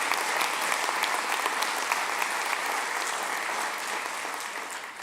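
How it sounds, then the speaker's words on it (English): An awards event audience applauds steadily and loudly for the whole stretch. It's a dense, even wash of many clapping hands with no voices over it, easing slightly toward the end. "And how about a round of applause for Roseanne and Amanda and Diana of SAMCEDA putting on this event"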